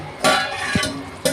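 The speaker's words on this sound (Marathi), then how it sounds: "मी झाकण खोलत आहे." A lid comes off a pan of Konkani-style liver masala with a few short metallic clanks and a light scrape, close and fairly loud.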